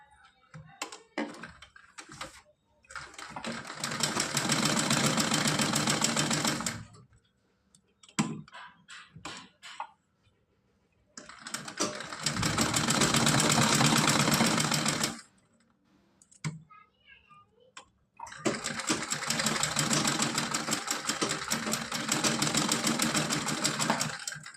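A sewing machine stitches net cloth and a doubled lining for a Kanha idol's festival dress, in three long steady runs separated by pauses with small handling clicks, close and prominent.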